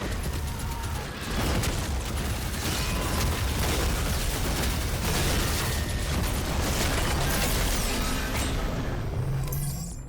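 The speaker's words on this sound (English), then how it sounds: "Pincushion or any other explosive is good because it constantly explodes all of his skull projectiles." A dense, nonstop barrage of booming explosions and sharp pops in DOOM, loud and continuous, layered over rumbling low-end noise with no pauses between blasts.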